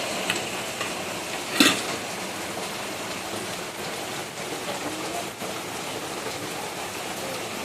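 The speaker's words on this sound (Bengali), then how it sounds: "বৃষ্টি পড়ছে খুব জোরে" Heavy rain falls steadily outdoors as a dense, even broadband hiss with a brief sharper clatter near the start; no one speaks.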